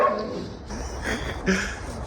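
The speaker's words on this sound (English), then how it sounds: "today I'm back at the dog shelter, walking the dogs" Dogs at a dog shelter bark and yip over one another in a noisy, echoing space, with a steady run of overlapping calls and no clear gaps.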